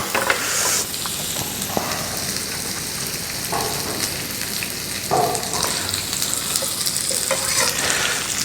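Garlic sizzling in olive oil in a pan, a steady close crackling hiss with scattered pops and occasional stirring scrapes, continuous and alone.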